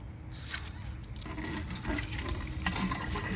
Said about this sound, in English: Then I just fill the rest up with water.